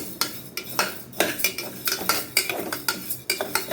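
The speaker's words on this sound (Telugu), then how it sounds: "ఇట్లా వేయించాలండి. సన్న సెగ పెట్టుకుని వేయించుకోవాలి." Moong dal frying on a low flame, heard mostly as a utensil scraping and clinking against the pan in quick repeated strokes, with only a faint sizzle underneath.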